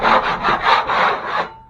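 A scraper drags across a bathroom drywall wall to strip off the textured surface, five rhythmic, close, gritty rasping strokes in quick succession, then stopping.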